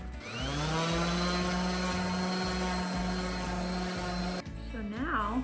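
A power sander smooths glue-filled wood on a garage workbench, spinning up to a steady, close, high-pitched whine that holds for several seconds before cutting off abruptly, followed by a brief voice.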